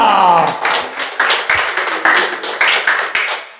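A church congregation claps in a steady rhythm, about two claps a second, loud and close, with a voice heard briefly at the start.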